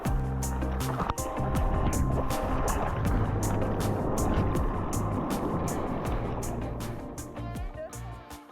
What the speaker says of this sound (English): Cruising around on a catamaran with the best crew, the best views, and all the sunshine.